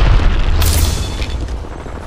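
A heavy grenade explosion in a shooter video game, a loud close boom with a sharp burst near the start and a rumbling low tail that decays over about two seconds.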